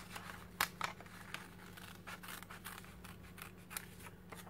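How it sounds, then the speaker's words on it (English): Thin nail scissors snip through paper scraps for a mixed media art journal page, a series of quiet, close crisp cuts in an irregular rhythm with no one speaking. "I'm again using nail scissors"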